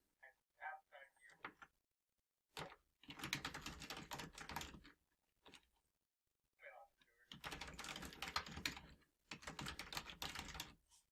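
Bursts of rapid clicking keystrokes in two long runs, separated by short pauses and a few quiet taps.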